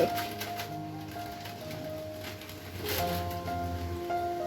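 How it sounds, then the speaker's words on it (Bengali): Steady rain falls outdoors as a soft, continuous hiss that swells slightly near the end, with a constant tonal hum running underneath. "বৃষ্টি পড়তে চালু হয়েছে"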